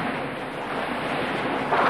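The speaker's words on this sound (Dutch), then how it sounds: "De golven worden alsmaar hoger." Rising ocean waves in a cartoon, a continuous soft surf wash with a slight swell in loudness toward the end, with no voices.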